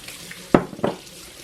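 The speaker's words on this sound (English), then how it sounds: "I'm adding a cup of warm milk." Warm milk poured into a mixing bowl while a huge birthday dinner is cooked, heard as two brief splashy liquid bursts close by, each fading quickly against a quiet kitchen background.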